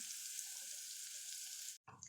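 Garlic cloves sizzle in melted butter in a pan with a steady, close, hissing crackle that stops abruptly near the end, followed by a faint clatter.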